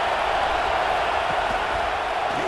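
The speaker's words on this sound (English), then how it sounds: "Listen to the crowd energy here in the early going." Steady, loud roar of a stadium crowd at a college football playoff game between Alabama and Oklahoma in EA Sports College Football 26, a continuous dense wash of cheering with no distinct breaks.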